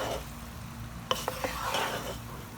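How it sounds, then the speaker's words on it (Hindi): Restaurant-style chicken fried rice with vegetables and green onions gets stirred in a hot pan: a soft steady sizzle, then three quick metallic clinks of a utensil against the pan, followed by scraping; no talk. "इनको हम मिक्स कर लेते हैं ग्रीन ऑनियन को।"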